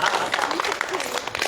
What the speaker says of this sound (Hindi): दोनों भाई साहब के लिए और भांजे के लिए जोरदार ताली पर बजा दीजिए